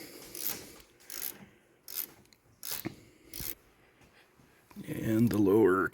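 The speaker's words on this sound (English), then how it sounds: "I could just get this gear wrench here and ratchet this guy right off" A gear wrench ratchets a bolt off the front suspension of a Honda Pioneer 1000-5 side-by-side, giving several short clicking bursts in a steady rhythm, close and moderately loud, before a mechanical whirring sound takes over.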